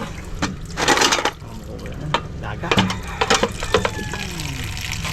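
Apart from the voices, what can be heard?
water being poured into a cooking pot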